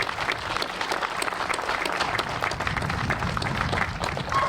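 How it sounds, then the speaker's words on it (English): Sustained applause from a crowd at an outdoor ribbon cutting ceremony for The Shack at Grass Island in Guilford, with dense, steady clapping throughout and no voices over it. "we owe him a huge round of applause"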